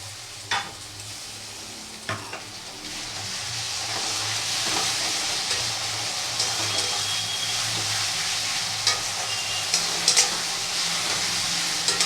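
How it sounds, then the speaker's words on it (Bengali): Ginger, garlic and green chilli paste sizzles and fries in a hot pan with a steady hiss, occasional stirring scrapes and small pops, no talking. "ভালো করে কষিয়ে নেবো"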